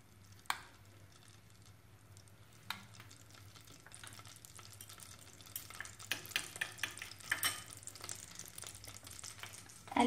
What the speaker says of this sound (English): I've added little oil to this. Now I'll add